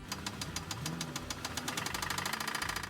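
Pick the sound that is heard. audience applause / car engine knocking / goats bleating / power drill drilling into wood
car engine knocking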